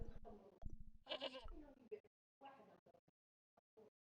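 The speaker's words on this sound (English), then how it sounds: "The goat responded with a coo." A tethered goat named Billy gives a short, close bleat in the middle of the clip, with people talking before and after it.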